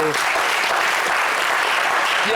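A studio audience on a French entertainment show claps loudly and continuously, dense steady applause filling the whole stretch with no break.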